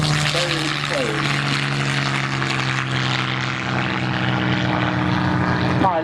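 Messerschmitt Me 109 piston-engine propeller fighter at an airshow, a loud steady droning engine note held throughout with slight pitch shifts, continuous and close, with voices faintly under it.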